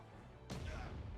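A Magic Bomb blast in the fantasy strategy game Unicorn Overlord, a single sudden booming explosion that bursts in midway and rumbles on with a crackling tail.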